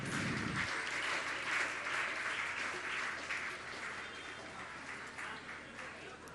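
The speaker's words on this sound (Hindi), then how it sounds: "आप लोग तालियां बजाते रहिए" A crowd at a Jain religious gathering with a monk keeps up continuous applause during a welcome, dense clapping that fades slightly toward the end, with some low background murmur.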